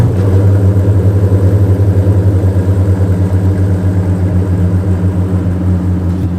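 A 2024 Koenigsegg Jesko supercar engine runs close and loud with a deep, steady, throbbing rumble and only slight shifts in pitch, no one talking over it.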